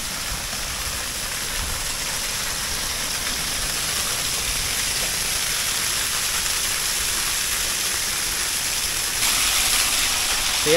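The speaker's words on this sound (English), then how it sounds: "They have this little waterfall on the side of the road." A small roadside waterfall in St. Thomas, Jamaica, gives a steady, close, broadband rush of falling water with no break, rising slightly louder toward the end.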